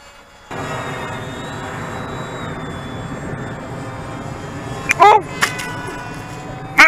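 An RC flying wing model aircraft in flight, its electric motor giving a steady whining drone after starting abruptly, close and fairly loud, with a couple of sharp bursts and a voice speaking near the end.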